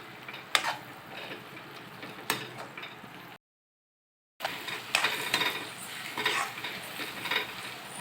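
A spoon stirs fried okra into a gravy of bhindi masala in a pan, giving soft scraping and clinking strokes with a few sharper taps. The sound breaks off in a short silence, then resumes.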